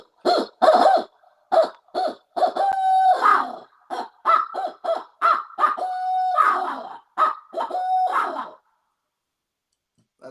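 A hunter imitates a wild turkey with a mouth call, producing a run of short yelps followed by longer drawn-out tones. The calls are close and fairly loud and come in repeated bursts with no talk.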